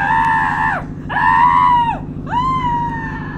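Three long, pitched screams from a character in a Roblox racing game, each rising then sliding downward, loud and close over a steady buzzing background hum.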